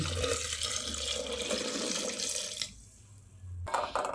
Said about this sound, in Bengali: তারপর জল দিয়ে দিচ্ছি।